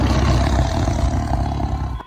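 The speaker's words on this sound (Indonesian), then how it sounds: "terdengar kembali sebuah geraman keras dari seekor harimau" A tiger's loud, deep growl, used as a sound effect in an audio drama: a rough, rumbling roar lasting about two seconds, close and unaccompanied.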